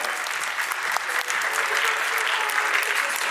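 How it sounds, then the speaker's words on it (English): Applause breaks out for a dancer named Jake at a dance competition, many hands clapping in a steady, bright wash that holds from start to finish. "Everyone give Jake a round of applause."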